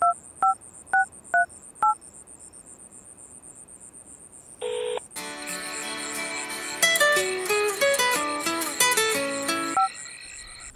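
Telephone keypad dialing: five quick, clipped DTMF beeps in a steady rhythm, then a brief held tone before a loud, dense ringing-and-music passage takes over, with no talking.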